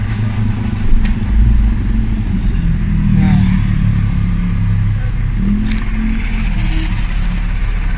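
A Honda car engine idles at high revs on a cold start, giving a steady, loud, close rumble with faint mechanical ticks over it.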